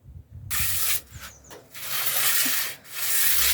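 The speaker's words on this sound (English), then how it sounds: "I'm just giving a quick sand to the table. I'm using a 240 grit just to take any of the little bumps and texture off" Sandpaper of 240 grit rubs over a wooden pallet table in quick back-and-forth strokes, a loud, close, raspy hiss broken by brief pauses.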